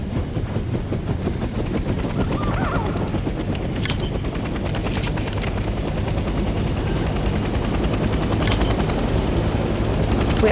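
Military helicopter lifting off in the Vietnam War shooter Hell Let Loose Vietnam, a loud steady rotor thump and engine roar filling the whole stretch, with brief sharp bursts of gunfire cracking through at intervals.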